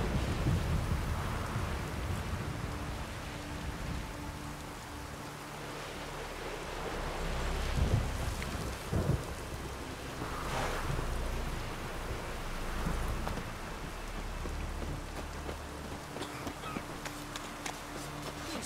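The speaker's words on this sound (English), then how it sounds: "Oh, raining again." Steady rain hisses across a Witcher 3: Wild Hunt game landscape while low thunder rumbles roll in a few times, with faint distant swells underneath and no talking.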